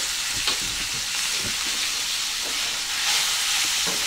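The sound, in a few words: beef frying and browning in oil in a pot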